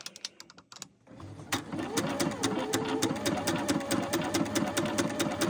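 A sewing machine running a triple stitch, starting after a few handling clicks, then a loud, steady, rapid mechanical chatter with a rhythmic back-and-forth jerk, close up.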